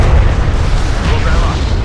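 A destroyed strike fighter in the sci-fi strategy game Homeworld: Deserts of Kharak explodes as a loud, continuous rumbling boom that fills the whole stretch, with game radio chatter mixed in.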